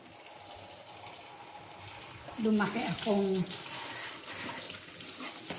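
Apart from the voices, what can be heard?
tap water running while washing dishes in sink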